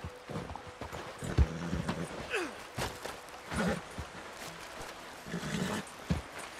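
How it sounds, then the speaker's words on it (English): In Red Dead Redemption 2, a horse moves along with soft, scattered hoof clops and snorts over faint outdoor ambience, close but fairly quiet. "So I was just bringing my horse back to Valentine"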